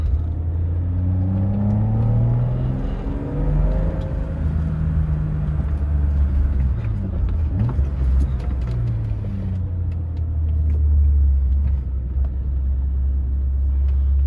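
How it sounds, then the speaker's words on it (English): A 1986 BMW 325e E30 with a Getrag 260-5 gearbox driving along, engine rumbling up through the revs, dropping and picking up again as gears are shifted, heard from inside the car. "Wow, that is incredible how much better it shifts."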